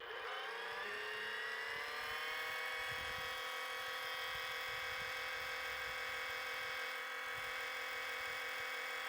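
Ryobi cordless transfer pump on a 4 amp-hour battery running with no load, a steady high electric whine that spins up over the first second and then holds even and close.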